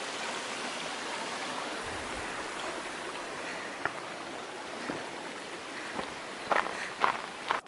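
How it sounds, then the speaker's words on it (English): A small creek flows beside a trail on the Pacific Crest Trail, giving a faint, steady wash of water. A few soft footsteps and light knocks come through near the end. "Cute little creek."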